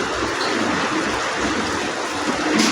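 Steady rain falls with a dense, continuous hiss and patter that holds at a fairly loud level throughout, with no voices over it.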